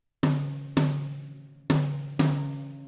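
Four sharp drum tom hits without damping gel, each ringing out with a long, resonant pitched sustain that slowly decays before the next strike.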